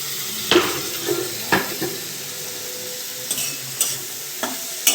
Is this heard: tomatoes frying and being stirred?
yes